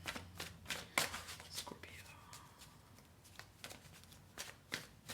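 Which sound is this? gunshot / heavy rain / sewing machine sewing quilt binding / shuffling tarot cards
shuffling tarot cards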